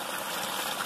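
A Gold Cube bucket trommel runs with water on a beach, producing a steady, loud rushing and splashing wash of water with no pauses.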